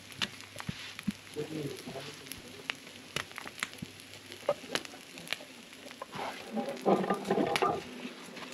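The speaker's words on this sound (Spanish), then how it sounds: "Miren, ya está la salsa hirviendo, ya está para agregar las mojarritas." Tomato salsa bubbling and sizzling in a pan on a rural ranch stove, ready for small mojarra fish, with close, irregular crackles and pops that grow busier toward the end.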